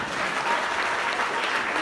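Church congregation applauding in a steady, dense wash of clapping that fills the room evenly, with no individual claps standing out and no talk over it.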